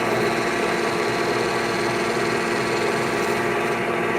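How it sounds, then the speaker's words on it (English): A lathe spins steadily while a skew chisel cuts a metal and walnut ring, giving a continuous loud, close whirring hum with a dense scraping texture and no breaks. "Now let's use the skew to expose the bevel."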